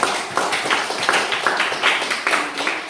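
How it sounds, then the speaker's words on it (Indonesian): Classroom applause for a student presenter in an Indonesian teacher-training lesson, a steady burst of many hands clapping at close range that lasts throughout the short stretch. "Aplaus untuk Tiara."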